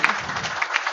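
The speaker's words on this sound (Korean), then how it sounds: "박수로 환영해 주시면 좋겠습니다." Brief, dense applause from an audience at a book launch concert, a close and steady patter of many hands clapping for about a second.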